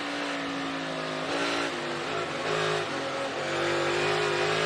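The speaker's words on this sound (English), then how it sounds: "I love the way they work the throttle, Mike." Dirt race cars at the Food City Dirt Race rev their engines in a loud, steady roar, the throttle rising and falling in short surges with a buzzing, rough motor tone that stays close and sustained.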